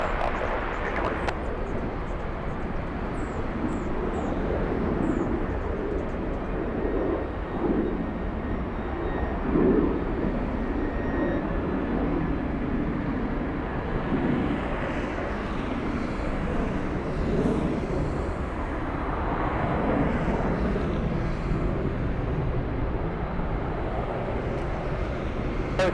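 A large airliner rolls for takeoff at LAX, its engines a broad, steady roar heard from a distance throughout, with no breaks.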